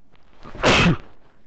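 A single loud sneeze from a man streaming Nioh, a sharp burst of roughly a third of a second standing out clearly above quiet background.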